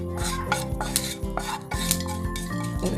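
Roasted dry coconut being scraped out of a pan onto a plate, with repeated metallic scrapes and clinks of a spoon against the pan in a quick, uneven rhythm, close and clear.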